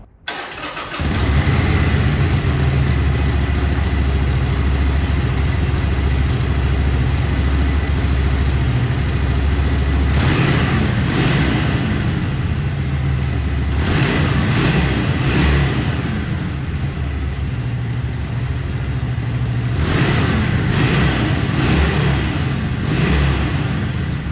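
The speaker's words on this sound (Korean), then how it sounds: "엔진 사운드도 들어보겠습니다." A Harley-Davidson 883 SuperLow motorcycle engine rumbles at a low, steady idle, broken by several sharp throttle blips that rev it up briefly, loud and close.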